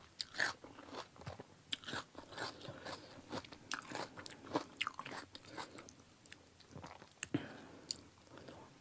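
Someone eating spicy pounded salad with rice noodles, Thai tam khanom jeen, with crisp irregular bites and crunching chews close to the mic, quiet between mouthfuls and no talking.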